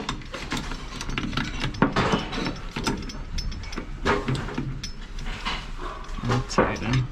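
A fitting being tightened during a Hoshizaki ice maker installation gives repeated ratcheting clicks and metallic scrapes in irregular bursts, close and fairly loud.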